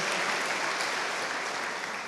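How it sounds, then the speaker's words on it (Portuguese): A church congregation applauds during a Portuguese-language service, with steady, dense clapping from many hands filling the room throughout, no voices rising above it. "Pode aplaudir o Senhor."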